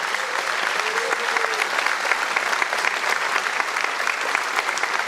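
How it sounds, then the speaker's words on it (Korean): An audience gives steady, dense applause for the president at the 21st presidential inauguration, many hands clapping at once with a brief murmur of voices. "다시 한번 대통령님께 큰 박수 보내주시기 바랍니다."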